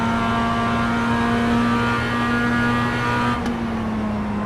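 Race cars lapping Sebring in a racing video game, a continuous loud steady engine drone with a constant pitch that changes briefly near the end, no talking.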